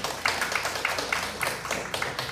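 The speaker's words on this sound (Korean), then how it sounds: "큰 박수로 환영해 주시기 바랍니다" Audience at a forum debate giving a panelist a welcoming round of applause, fairly quiet, scattered claps with distinct individual hand strikes rather than a dense roar.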